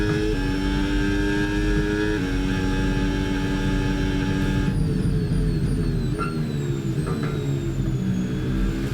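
A Cadillac Formula 1 car engine in the F1 26 racing game, Austria circuit, whines loud and continuous at high revs, holding pitch, then dropping through several quick upshifts with rising sweeps.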